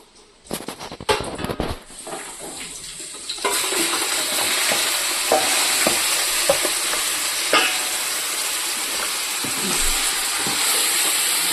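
Chicken pieces frying in ghee for a chicken dum biryani, with a few clattering stirs at first, then a steady, loud sizzle and hiss that continues to the end, with occasional scrapes.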